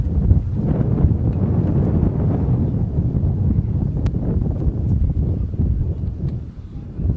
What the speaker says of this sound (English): the wind is a strong factor here